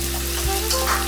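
Soya chunk bhurji masala with onion, tomato, chilli powder, coriander-cumin powder and turmeric sizzles in a pan while being stirred, a close, steady frying hiss with a brief scrape of the spoon.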